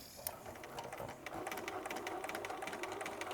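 A sewing machine runs steadily through the straight-stitch side of a buttonhole, its fast, even needle clatter continuous and close throughout.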